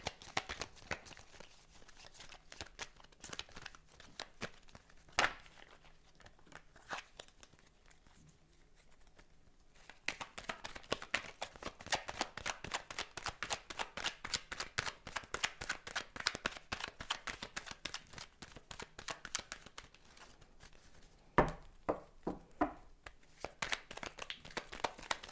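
Tarot cards are shuffled over and over in close, rapid riffling bursts, with short pauses and a few sharp taps as the deck is cut. No voices are heard.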